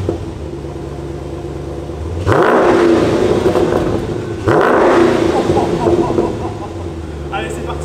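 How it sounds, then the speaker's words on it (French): Dodge Challenger R/T Scat Pack Shaker with a 6.4 HEMI V8 revs in two loud, deep roaring bursts that rise from a low rumbling idle, with talk over it. "on se laisse vite emporter par le grondement continu du V8"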